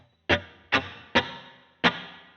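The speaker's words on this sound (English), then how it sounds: "the ambience knob actually gives you some reverb" Four sharp, evenly spaced guitar hits pass through a Boss CE-20 chorus pedal with its ambience knob turned up, each one followed by a short, roomy reverb tail that fades before the next.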